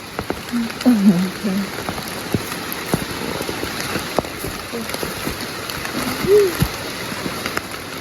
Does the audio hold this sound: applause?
no